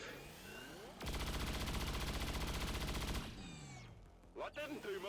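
A burst of rapid automatic gunfire from XCOM 2 with the Long War of the Chosen mod rattles loud and dense for about two seconds, set against an electronic game soundtrack and swooping effects.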